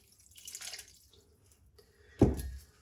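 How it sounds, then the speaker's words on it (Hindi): Water poured into a bowl while making a tamarind chutney: a faint trickle early on, then a sudden, louder splash with pouring that tapers off over about a second, with no talking. "अब यहाँ पे तो मैं पानी डाल दूंगी थोड़ा सा।"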